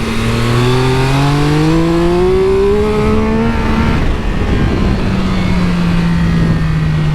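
A Triumph Speed Triple RX motorcycle engine heard on board while riding: a loud, rising growl that climbs steadily in revs, drops off sharply around the middle, then settles into a steady lower drone.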